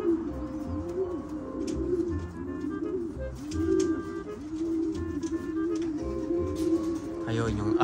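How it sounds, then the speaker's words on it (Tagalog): Racing pigeons arriving back at the loft after a 50 km release coo in steady, overlapping rounds close by, while someone talks over them. "May dumating pa sa ating 5 mga kalapatids."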